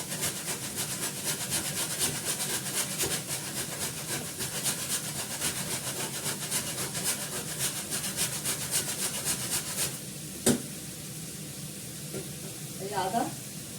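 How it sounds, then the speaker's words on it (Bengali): Ginger being rubbed against a plate to grate it, a steady rasping scrape running for about ten seconds before it stops, with a faint clink and light kitchen sounds afterward. "একটু আদা ঘষে দেবো এর মধ্যে, প্লেটের মধ্যে ঘষে"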